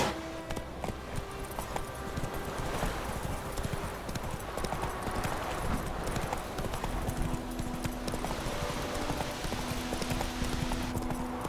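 Hooves clip-clop at a steady rhythmic gait as the horse Roach travels in the video game The Witcher 3: Wild Hunt, moderately loud and close, with faint background game ambience.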